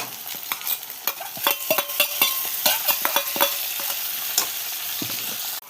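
Ground dried chili and cumin paste fries and is stirred in a pan, with a steady close sizzle broken by frequent scraping stir strokes and utensil clicks, no talk.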